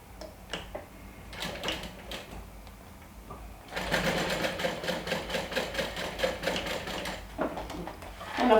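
Sewing machine top stitching a fabric flap for a wand holder, starting with a few short bursts of stitching and then running in one longer steady whirring stretch with a rhythmic needle clatter, close and fairly quiet.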